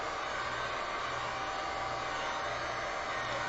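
A heat gun blows air over alcohol ink artwork, producing a steady, loud, continuous hissing whoosh with a low motor hum underneath, unbroken throughout.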